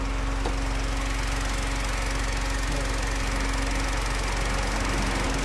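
A Honda S660's small 660cc engine runs at a steady idle, giving a constant low mechanical drone with a broad, even hiss over it. No one speaks.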